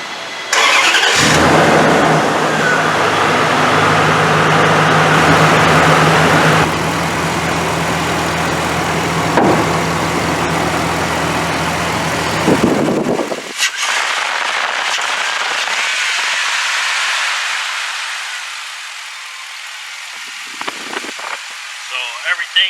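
A rebuilt Dodge 4.7 engine cranks, catches and settles into a steady, loud running idle. Later it cuts off, leaving quieter room sounds with a few faint knocks.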